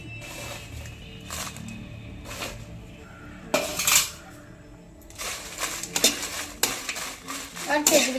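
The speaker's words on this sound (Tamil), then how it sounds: "அதை இப்போ போட்டு வறுத்து எடுத்துக்குவோம்." Dry red chillies roasting in oil in a pan for idli chilli powder, with a steady soft sizzle broken by repeated scraping and clanking as the chillies are stirred with a metal spoon.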